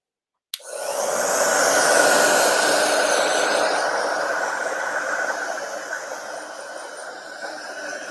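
A hair dryer used to dry a dog starts abruptly and keeps up a loud, steady whooshing hum nearby, easing slightly in strength over several seconds.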